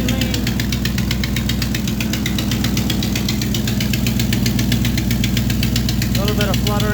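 A 1985 Chevrolet K20 truck's carbureted engine, tuned right at the edge of lean, runs loud and close with a steady pulsing drone and a slight uneven flutter in its rhythm, while a brief voice shows up near the end.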